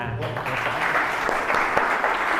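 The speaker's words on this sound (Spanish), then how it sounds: "Un fuerte aplauso." An audience at a medical talk on pain and dermatology breaks into dense, continuous applause that holds at a steady level, with a faint voice at the start.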